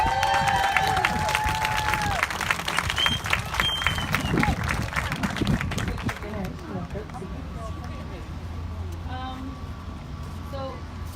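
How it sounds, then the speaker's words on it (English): An audience at a World Suicide Prevention Day event gives a round of applause, loud clapping and some cheering that fades after about six seconds into quieter crowd murmur and voices. "can everyone give another round of applause for the little girls that were just up here earlier"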